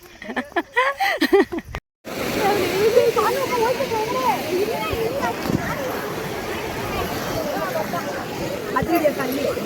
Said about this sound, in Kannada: ಹೆಂಗು ನೀರು ಹೋಗ್ತಾ ಇದೆ ನೋಡಿ ಫೋರ್ಸ್